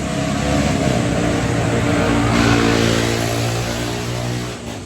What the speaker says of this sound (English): Sounds like he needs a new muffler.